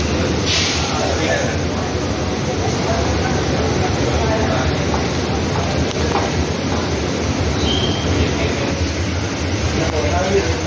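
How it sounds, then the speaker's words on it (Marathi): Mumbai Metro Line 3 Aqua Line train riding between Aarey JVLR and Kotak BKC, a steady dense rumble and rushing noise inside the carriage, with a brief hiss near the start and faint chimes later. "Welcome to Mumbai metro line 3. याला ॲक्वा लाईन म्हणतात कारण ही पाण्याखालून पण जाते."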